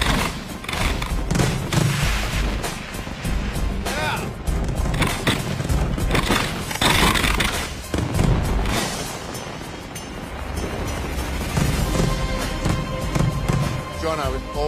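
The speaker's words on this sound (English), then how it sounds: "It's time for the barge fireworks to let fly." Rapid bursts of firework shells fired from barges, including a big 8-inch shell, crackle and boom continuously, loud and overlapping, with people talking underneath.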